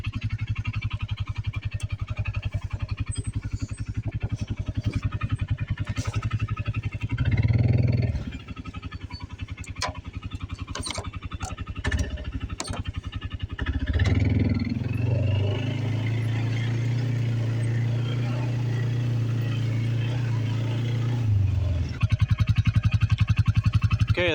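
A 2012 Arctic Cat 300 ATV engine runs on a test ride, a continuous rumbling idle with rising revs and louder surges near the end, plus scattered clunks and rattles.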